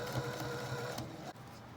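A sewing machine runs steadily and fairly close, topstitching a small zippered fabric pouch in a brief continuous whir that stops near the end.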